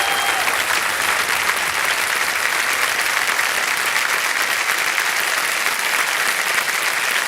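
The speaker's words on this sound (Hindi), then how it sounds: "तालियां बज जाए इनके लिए" A studio audience on the KBC game show in India applauds, a dense, steady burst of clapping that holds evenly for several seconds with no voices over it.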